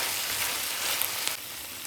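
Beef cooks in a pan with a steady, close, moderately loud sizzle and frying hiss that runs unbroken throughout, with no voices, while a Chinese-style dish is prepared at home.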